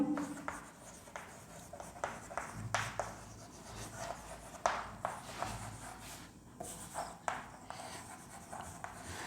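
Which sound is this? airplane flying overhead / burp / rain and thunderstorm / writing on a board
writing on a board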